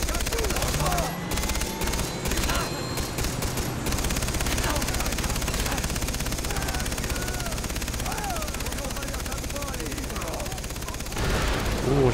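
Rapid bursts of automatic gunfire and explosions crackle densely throughout a helicopter combat video game, with a few sharp, heavy blasts near the start and a player's voice talking over the action.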